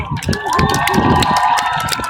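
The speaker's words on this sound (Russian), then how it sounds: "те все девчули хлопали" Girls and women in a concert audience clap and cheer together, a loud, close burst of rapid applause mixed with shrill shouts and squeals.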